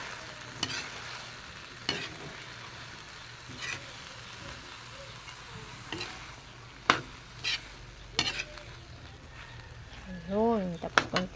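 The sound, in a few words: stirring bottle gourd (upo) in a cooking pan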